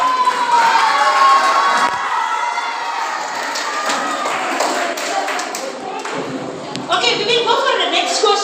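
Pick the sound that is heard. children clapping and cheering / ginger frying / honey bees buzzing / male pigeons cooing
children clapping and cheering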